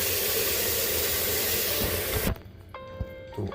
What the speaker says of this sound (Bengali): তো আমরা একবার ধুয়ে নিই মাটনটা।